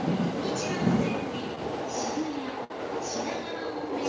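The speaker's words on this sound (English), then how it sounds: "Does anybody know what train line that is?" Train rumbling past near Harajuku Station in Tokyo, a steady roar with faint squeals, and a voice talking over it.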